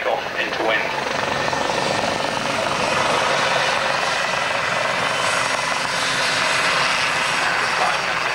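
A naval helicopter comes in for a running landing at the 1991 Leicester Airshow, its loud, steady rotor and engine roar filling the whole stretch as a commentator talks over it.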